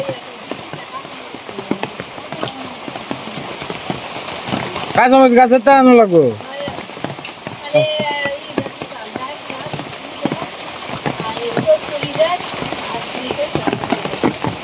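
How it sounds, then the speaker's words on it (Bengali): Steady rain falls on a surface with a broad hiss throughout, continuing under a voice that speaks briefly in the middle. "বৃষ্টি আবার আরম্ভ হয়ে গেল"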